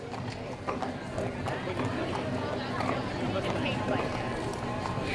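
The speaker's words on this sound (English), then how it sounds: "Beautiful horses." Horses walk in a street parade, their hooves clip-clopping in a steady rhythm against a dense crowd and street background while a person talks.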